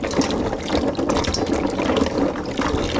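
Tap water runs steadily into a sink as food bought at a local market is rinsed before boiling, a continuous close splashing and trickling without any talk.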